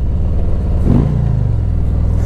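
A Harley-Davidson Ultra Limited touring motorcycle engine while riding, a loud, close, steady low rumble with a brief throttle swell partway through, no voices.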